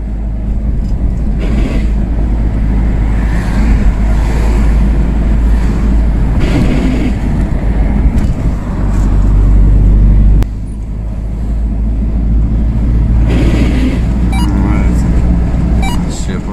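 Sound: grinding noise in UAZ Patriot 2019 suspension while driving

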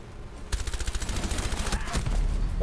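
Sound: gunfire in Rainbow Six video game

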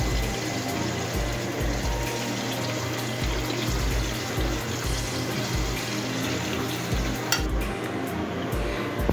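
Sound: bread frying and sizzling in a pan

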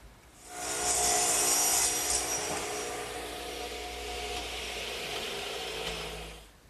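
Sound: sawing an angled cut in wood for a garden swing

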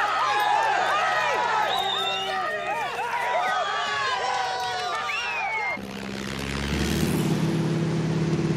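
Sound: propeller aircraft flying

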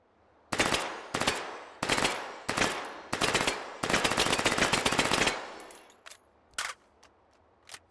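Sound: gunfire from shooting practice in the VR video game Hot Dogs, Horseshoes & Hand Grenades

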